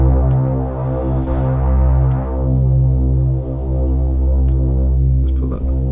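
A distorted sub bass synthesizer tone holds a low, droning, buzzy note with a menacing, throbbing character and faint swells in loudness, loud and continuous with no talk over it.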